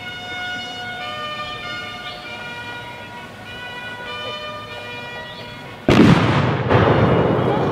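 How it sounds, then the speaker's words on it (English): A sudden loud cannon blast at a scout camp flag ceremony cuts through a sustained horn-like tone and background hum, with a second lighter burst of noise shortly after, close and booming. "That cannon shot always seemed to catch you by surprise."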